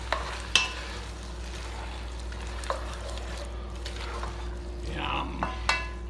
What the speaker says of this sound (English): I'm going to give that another 15 minutes stirring it just to soften it